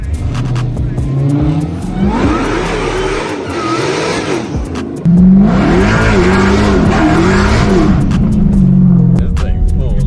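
A 1000-horsepower Dodge Hellcat drives by with a loud, steady engine roar that swells into hard acceleration halfway through, heard up close alongside some talking.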